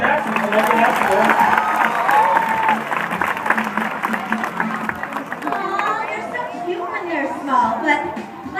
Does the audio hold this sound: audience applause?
yes